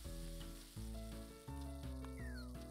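Prawns sautéing in the Cooking Mama video game, a steady synthesized sizzle over a looping game music track with bright melodic tones, no voices.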